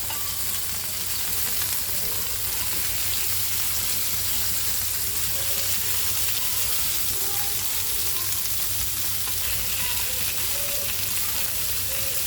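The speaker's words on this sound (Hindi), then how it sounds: "इसको हम अच्छे से फ्राई कर लेंगे, फास्ट फ्लेम पर फ्राई करेंगे" Stuffed bombil fish frying in very hot oil over a high flame for a Konkani recipe, giving a loud, steady, dense sizzle that carries on throughout with no talk.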